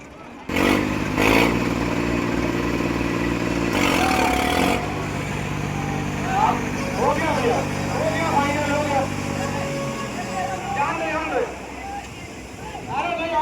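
A New Holland tractor engine revs loudly in a tug-of-war contest, its rumbling drone rising and falling in pitch as voices talk and call out over it.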